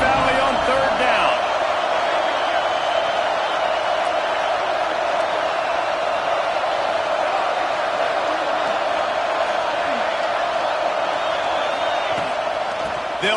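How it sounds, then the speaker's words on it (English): A huge college football stadium crowd in Happy Valley roars on third down, a steady, loud wall of noise sustained without a break. "Here comes the noise from this big crowd in Happy Valley on 3rd down."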